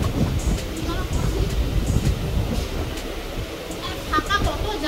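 Steady rumbling clatter of a moving passenger train during a 40-minute ride toward Baruipur, with a dense low roar throughout and voices chatting over it.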